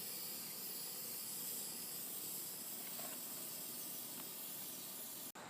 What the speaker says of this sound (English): I spray painted the top yellow